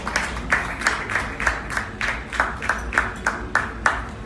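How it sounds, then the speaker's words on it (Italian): Audience clapping for a master glass sculptor at a Murano glassworks, steady rhythmic claps building to a bright, fairly close burst that continues throughout. "Che applauso al fianco, signori, bravo!"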